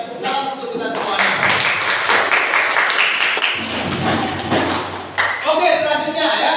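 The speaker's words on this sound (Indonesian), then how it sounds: "tepuk tangan untuk kita semuanya" A classroom of students applauds on cue from the teacher, a burst of mixed clapping that swells and fades in waves, with some talking mixed in.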